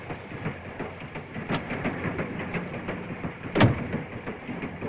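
A European passenger train runs along the rails with a steady rumbling roll and irregular clicks and clunks, heard from inside a carriage, fairly loud with a sharper bang near the end.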